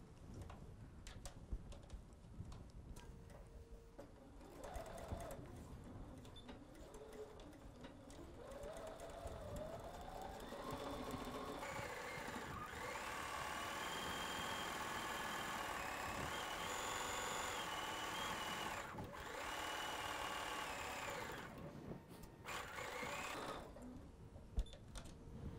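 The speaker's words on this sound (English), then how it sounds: "I'm going to backstitch just like before." A sewing machine stitches a travel pillowcase, starting with short backstitch bursts and then running in a long, steady whirring stretch before slowing and stopping. The sound is close and moderately quiet.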